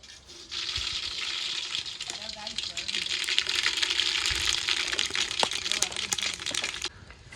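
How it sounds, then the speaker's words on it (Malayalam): Mustard seeds dropped into hot oil in a pan with green chilli and cinnamon while cooking chicken curry, giving a steady close sizzle with scattered sharp pops and crackles throughout, tapering off near the end. "അത് നമുക്ക് കടുക് ഇട്ട് കൊടുക്കാം."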